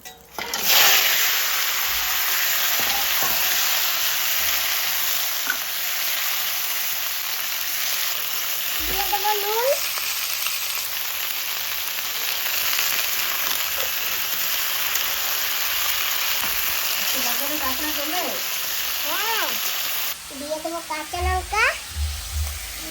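Turmeric-coated crab frying in hot oil in a wok, a loud, steady sizzle that carries on throughout, with occasional brief voices cutting in near the end.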